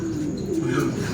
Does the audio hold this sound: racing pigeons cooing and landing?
yes